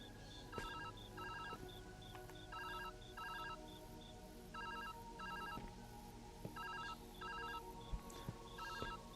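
A telephone rings in the video game Viewfinder, its electronic ring repeating in regular paired bursts across the clip, steady and clear over a soft game-music background with no talking.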